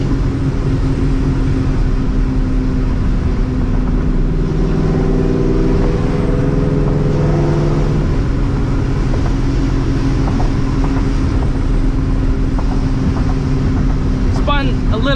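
A supercharged New Edge Mustang GT on a dyno, its engine droning and rising in pitch as it accelerates under a constant wash of loud roller and fan noise, with the revs fading out toward the end.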